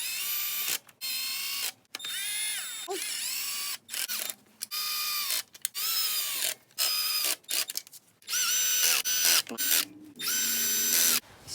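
Power tool driving the oil pan bolts into place on a Mazda3 during a transmission service, loud close whirring bursts repeated in quick succession with short pauses between each bolt.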